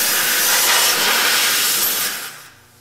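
Pressurized air rushing out of a dual-wheel truck tire through an open valve stem with the core removed, a loud steady broadband hiss that holds for over two seconds before quickly tapering off.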